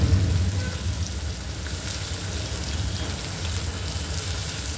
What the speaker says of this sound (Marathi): आणि कांदा टाकूया। आता आपल्याला हे चांगलं परतवायचं।